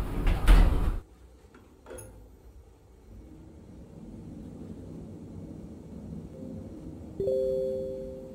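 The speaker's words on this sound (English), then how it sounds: "Doors closing." Elevator doors in a Roblox test tower slide shut: a loud thump at the start, then a quieter mechanical hum, and a soft tonal chime near the end.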